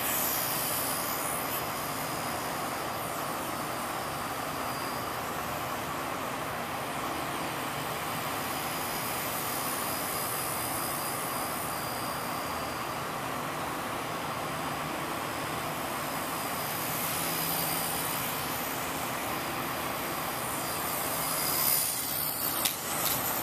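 Nano CPx micro RC helicopter flying indoors at a rec center, a steady high-pitched whirring buzz from the rotors that runs continuously at even volume with no talking.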